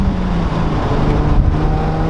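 An Infiniti G35 with an aftermarket exhaust accelerates briefly on a highway, heard from inside the car as a quiet, steady low engine and exhaust hum with mild road noise and no drone.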